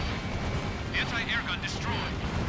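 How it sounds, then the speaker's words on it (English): Anti-air gun blowing up in a flight combat video game, a dense roaring explosion rumble filling the whole moment, with someone talking over it. "Anti-air gun destroyed."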